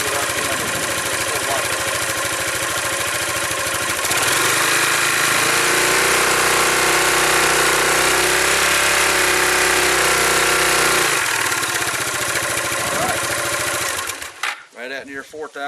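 A 2005 Yamaha Majesty scooter engine revs up steadily with the rear brake held, a loud sustained mechanical drone that rises and holds for several seconds before dropping off near the end.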